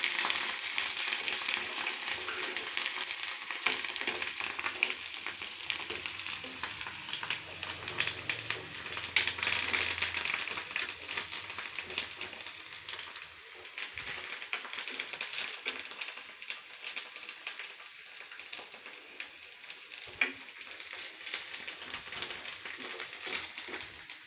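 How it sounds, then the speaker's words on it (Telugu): Curry leaves sizzling in hot oil for a fish curry, a steady crackling fry with occasional spatters and pops, close and continuous throughout. "కరివేపాకు బాగా ఫ్రై అవనిద్దామండి"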